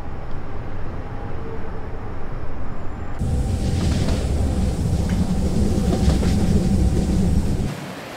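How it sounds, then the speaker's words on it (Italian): A train on the Centovalli railway out of Locarno rumbles steadily from inside, with a continuous low roar that grows heavier partway through and carries on without a break. "Quando salgo sul treno da Locarno, mi imbatto in una spensierata comitiva svizzero-tedesca"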